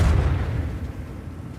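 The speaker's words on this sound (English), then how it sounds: "Let's drop out our plasma torpedoes." A loud, deep boom of plasma torpedoes exploding in the Warhammer 40K game Rogue Trader erupts at once and rumbles away over about a second and a half, heard alone.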